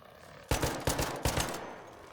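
Enemy gunfire in ARC Raiders: three sharp, loud automatic bursts in quick succession, each a rapid rattle of shots fading out, over a quieter background hum.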